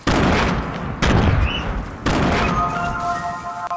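Gunfire in the Fortnite video game, a few loud, sharp shots spaced about a second apart, each with a booming tail, close and with no talk over them.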